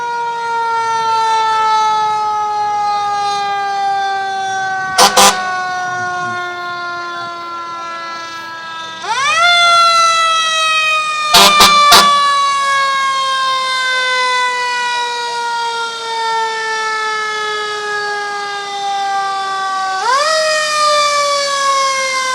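Loud fire engine sirens wail with slow, repeating falling-then-rising sweeps, close by at a Fourth of July parade in Edmonds, with a few sharp horn blasts cutting through.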